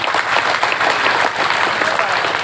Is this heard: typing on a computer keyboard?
no